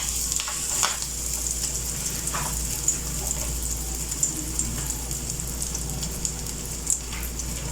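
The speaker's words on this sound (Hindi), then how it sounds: "अब हम इन्हें फ्राई करते हैं।" Egg kebabs frying in hot oil, a loud, close, continuous sizzle with small crackles and occasional stirring noises.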